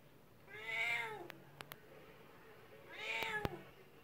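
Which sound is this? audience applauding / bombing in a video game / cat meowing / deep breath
cat meowing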